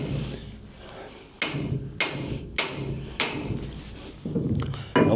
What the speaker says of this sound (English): slogging spanner. These are real tools for real men.